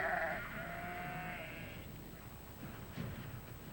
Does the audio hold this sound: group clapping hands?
no